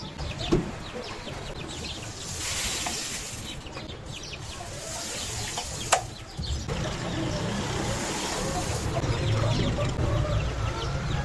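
Chickens and chicks cluck and chirp steadily in a farm coop, with a dense layer of overlapping calls close by and a brief flutter or thump partway through.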